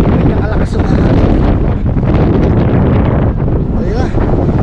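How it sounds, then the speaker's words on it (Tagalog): Strong wind roars across the microphone on the open Haeundae Blueline Park beach train in Busan, a loud, constant buffeting rush that fills the whole stretch. "Ganyan kalakas yung hangin."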